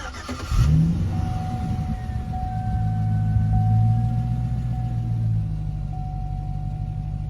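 A Hummer H3T with dual exhaust cranks briefly and starts, then settles into a steady, deep idle rumble that is close and fairly loud. A faint electronic tone runs underneath.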